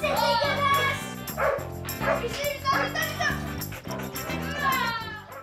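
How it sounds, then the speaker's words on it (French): Three big dogs barking while running around a kitchen, repeated loud woofs and yips mixed with children's excited voices and busy domestic commotion. "Oli et Zach courent après 3 gros chiens dans la cuisine."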